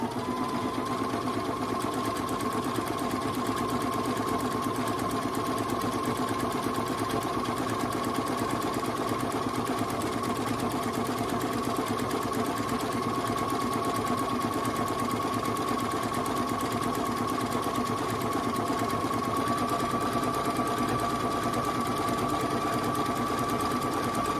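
A sewing machine runs without a break while stitching a pillowcase, a steady close mechanical whir with a fast rhythmic needle chatter and a constant hum.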